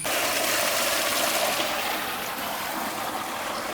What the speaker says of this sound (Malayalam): നമ്മൾ ആദ്യം തന്നെ വെള്ളം തുറന്ന് വിടുന്നു.